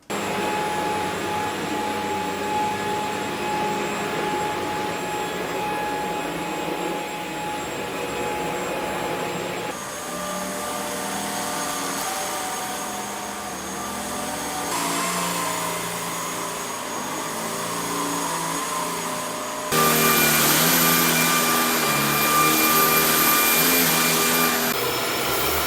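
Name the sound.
Shark Stratos vacuum cleaners running on each mode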